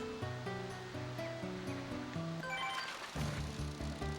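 A waterfall in the Dark Cloud 2 video game rushes continuously beside a fishing spot, its steady wash layered under melodic game music.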